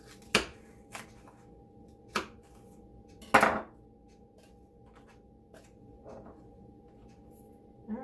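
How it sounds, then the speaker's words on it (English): A kitchen knife chops through an onion on a home cutting board: a few sharp, close cuts at uneven intervals, with quiet pauses between them. "just get this onion chopped up"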